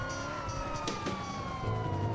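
A video game siren wails steadily with a slowly sliding tone over a dense background rumble, no talking.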